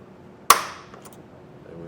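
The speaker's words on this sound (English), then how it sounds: "take our center punch and punch the center of this hole." A center punch strikes once against metal while marking the center of a hole in a bracket for side steps on a 2019 Ford F-150, giving a single sharp, close snap over quiet background.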